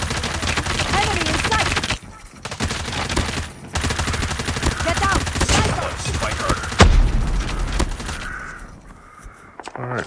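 Rapid gunfire from Call of Duty Mobile played on an iPhone: dense, loud bursts of automatic shots with short silent gaps between volleys, then a sharper single blast and quieter game sounds toward the end.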